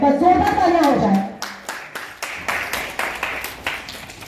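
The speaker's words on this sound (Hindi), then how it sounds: "जोरदार तालियां हो जाए" People clap at a lamp-lighting ceremony opening a Diwali business meet and exhibition. Talk comes first, then a run of sharp, fairly close hand claps.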